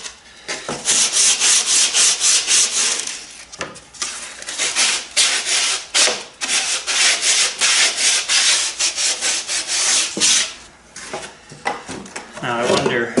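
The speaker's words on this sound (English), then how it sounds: "now that I've scuff sanded and removed a bit of lumpy epoxy" Scuff sanding the wooden rudder edge of a boat with lumpy epoxy on it, close rhythmic rubbing strokes in bursts with brief pauses, loud and alone.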